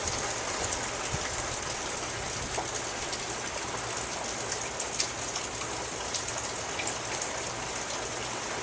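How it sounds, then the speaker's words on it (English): Heavy rain pours steadily during tropical storm Nicole in Okeechobee, Florida, a dense unbroken hiss of drops hitting surfaces with wind adding a low rumble throughout. "it's really rainy and windy. It's starting to get a little bit windier now."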